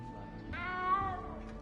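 A single cat meow rises over soft background ambience in the video game Hogwarts Legacy. It is clear but fairly quiet, and no one speaks.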